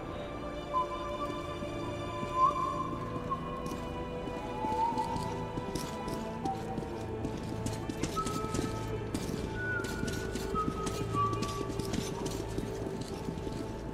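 Horses clip-clopping at a trot in Metro 2033 Redux, steady hoofbeats with an occasional whinny over a droning background score, with faint voices now and then.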